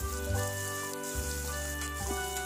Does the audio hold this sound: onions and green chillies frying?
yes